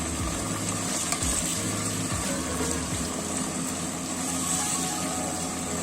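Chicken pieces browning in hot oil in a pan, a continuous close sizzle with steady frying hiss and occasional stirring scrapes, moderately loud and without speech.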